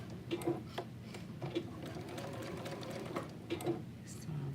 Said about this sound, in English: I'm gonna go ahead and just do the understitching